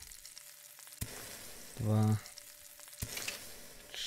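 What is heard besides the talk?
food cooking over fire, from Above Snakes video game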